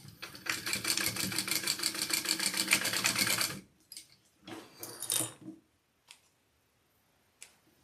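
A domestic sewing machine bastes fabric pieces with a rapid, close, rhythmic clatter of stitching for a few seconds, then stops, followed by shorter bursts and a couple of faint clicks.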